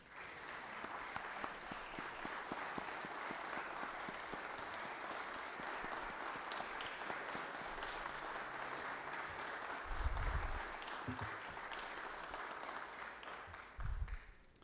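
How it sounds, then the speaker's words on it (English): A crowd applauding steadily in the Georgia State Senate chamber, a dense patter of many hands clapping at even volume, with a couple of low thumps near the end. "I'd like to ask for a round of applause"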